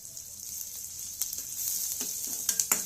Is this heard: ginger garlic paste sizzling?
yes